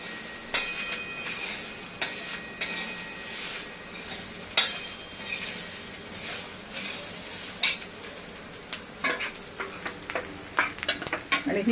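Spinach and chana dal bhaji roasting in a pan, with a steady low sizzle under repeated sharp clinks and scrapes of a spoon stirring against the pan, close and moderately loud.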